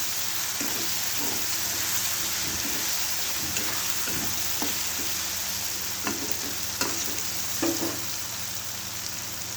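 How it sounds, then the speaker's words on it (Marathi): Tomato chutney, just salted, sizzles in a pan while a spoon stirs it, giving a continuous crackling fry with scattered scraping clicks, close and fairly loud. "पुन्हा हलवून घ्यायचं"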